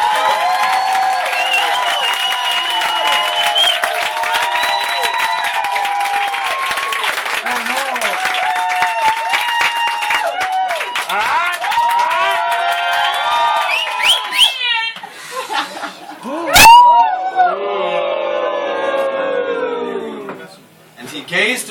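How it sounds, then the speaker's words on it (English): Audience clapping and cheering at a live comedy show in Seattle, a steady wash of applause running beneath voices and tonal, musical sounds before thinning out near the end. "So if you can clap right now."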